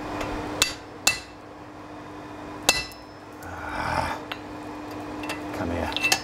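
Hammer blows on hot steel during a cut-off while forging a sword by hand, a few sharp isolated strikes spaced irregularly over a low steady background hum, with a softer scraping patch midway.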